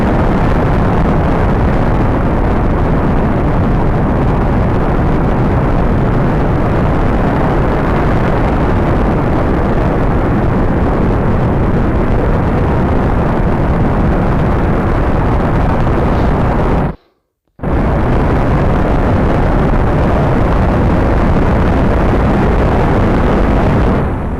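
A rocket launches in Spaceflight Simulator with a loud, dense, unbroken engine roar lasting over twenty seconds, briefly cut out once partway through, with no voices.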